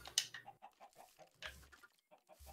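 Chickens cluck in the Minecraft ChickenBlock modpack, a rapid run of short clucks with brief pauses, fairly close and alone without talk.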